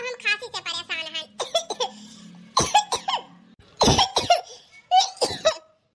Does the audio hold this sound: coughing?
yes